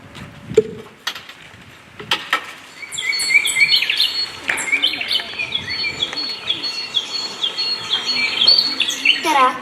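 A starling sings in a long, varied stream of chirps, whistles and trills, moderately close and continuous, with other faint bird and insect sounds behind it.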